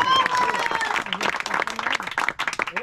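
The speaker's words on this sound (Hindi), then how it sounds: "बहुत जोरदार ताली और कप्तान साहब को एक लिए जोरदार ताली" Clapping and cheering from a small crowd at a cricket semi-final prize ceremony, honoring the team captain, with loud voices talking over the applause throughout.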